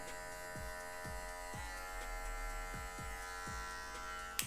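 An electric hair clipper fitted with a number 1 guard buzzes steadily while fading a haircut, a close, constant motor drone with faint periodic pulses as strokes pass through the hair.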